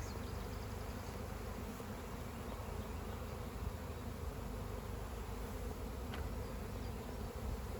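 A honeybee swarm fills the air with a dense, steady buzzing hum, close and continuous throughout with no voices.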